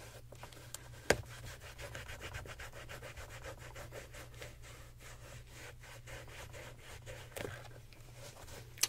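A soft cloth rubs the leather of white Gucci sneakers in quick, rhythmic back-and-forth strokes, quiet and close, with a couple of sharper taps along the way and no voices.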